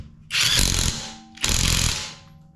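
A Seesii WH700 impact tool tightens a fastener in two loud bursts of rapid rattling hammering, close up, with a short pause between them and no talk.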